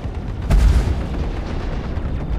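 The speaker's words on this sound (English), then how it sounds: "we can compare their rate of fire with these Mass Driver cannons" In the Star Citizen space combat game, a Mass Driver cannon fires a single deep, booming shot that fades into a lingering low rumble, with no talking.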